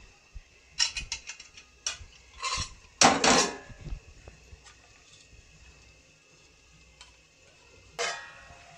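A metal lid set onto a cooking pot of spicy Maharashtrian vajri masala (tripe curry), giving a cluster of close clinks and rattles around the middle, with scattered lighter kitchen taps and clicks before and after.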